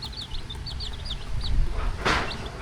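A mother hen clucking near rice fields, a series of short close clucks repeating over steady outdoor background noise, with a brief louder rustle near the end.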